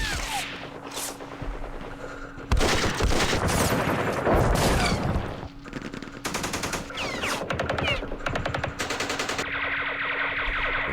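Gunfire in the war game Campaign Series Middle East, with bursts of machine-gun and rifle fire in rapid rattling volleys. The bursts come loud and close, separated by brief pauses, over a steady background hum.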